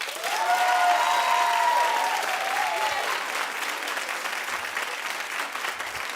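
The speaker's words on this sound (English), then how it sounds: "So clap if you think they were kissing." A studio audience at a daytime talk show claps in a loud burst that eases slightly but keeps going, with a few whoops and cheers rising above the clapping near the start.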